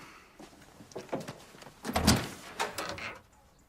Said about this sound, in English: Tom, open that door.